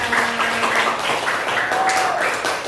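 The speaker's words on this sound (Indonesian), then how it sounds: "Tepuk tangan untuk kita semuanya" Schoolchildren in an Indonesian classroom clap together in a brief, busy burst, with bright overlapping claps and a few young voices mixed in.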